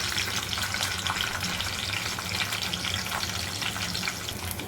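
Mustard seeds and cumin sizzling in hot oil, a dense, loud, even crackle and spatter close by, with no voices.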